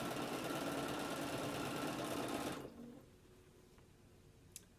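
A sewing machine runs steadily while stitching the seams of a log cabin quilt, a dense continuous whirr that stops abruptly partway through, leaving a quiet room with a faint click near the end.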